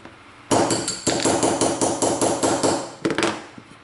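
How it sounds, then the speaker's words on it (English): A hammer taps a 1/8 inch punch to drive the trigger hinge pin out of a Ruger Mini-14, sharp metallic strikes repeating in a steady rhythm, close and loud, about a dozen blows followed by a short quick burst. "take your 1/8 inch punch and go ahead and tap out that hinge pin"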